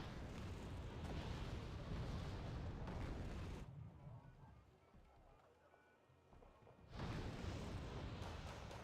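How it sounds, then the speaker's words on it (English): Heavy artillery fire in the real-time strategy game Wargame Red Dragon rumbles as a dense run of booming blasts, drops to a quieter lull, then swells back into loud, sustained bombardment. "We're seeing a whole lot of artillery fire here from Satyr"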